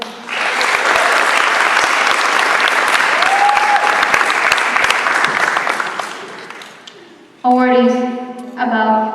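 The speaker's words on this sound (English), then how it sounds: "Please give a round of applause for the awardees." Loud, sustained applause from a crowd at a high school NJROTC graduation ceremony honoring cadet awardees, gradually fading out before a voice speaks commands at the end.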